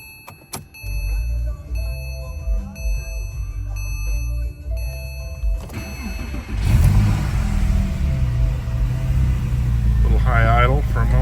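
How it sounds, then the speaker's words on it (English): 2008 Porsche 911 of the 997.1 generation with 31,373 miles fires up from cold after a few seconds of clicks and chimes, settling into a loud, steady high idle as someone talks over it. "I'll do a quick cold start for you."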